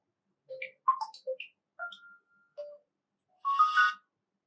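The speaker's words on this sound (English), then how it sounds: "or you can select a ringtone from the nature option" A nature-option ringtone on an Oppo A5x smartphone: short chirpy tonal notes like birdsong in a sparse sequence, then a brighter fluttering burst near the end, clear and alone without talk.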